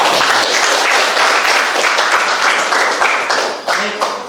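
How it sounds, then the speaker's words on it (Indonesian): Schoolchildren in a classroom clap together, a dense, loud patter of many small hands that thins slightly toward the end. "kasih tepuk tangan anak-anak"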